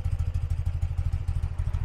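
A 1982 BMW R100RT motorcycle engine idles steadily nearby, a low, even boxer-twin throb with a regular pulsing rhythm and faint clatter, no talk.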